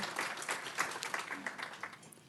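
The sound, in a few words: applause at workshop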